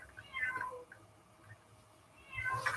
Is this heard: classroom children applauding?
no